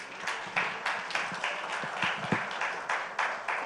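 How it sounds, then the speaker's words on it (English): Applause from a summit audience, steady and moderately loud, with rhythmic clapping swells throughout and no speech over it. "A round of applause, ladies and gentlemen,"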